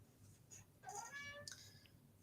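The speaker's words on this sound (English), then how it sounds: "I heard the meow." A single faint cat meow rises briefly and drops away over a low, steady background hum.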